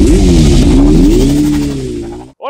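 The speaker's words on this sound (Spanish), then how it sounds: "sonido característico de una tricilíndrica" A 2021 Yamaha MT-09 three-cylinder motorcycle engine revs loudly and up close, its pitch rising and falling before the sound cuts off abruptly near the end.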